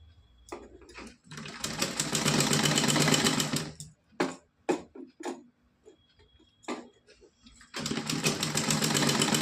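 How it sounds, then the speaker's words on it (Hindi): Sewing machine stitching gota patti trim onto a small doll dress, fast whirring runs in two bursts separated by clicks, handling taps and brief pauses. "हमारी यहाँ पे सिलाई लग चुकी है।"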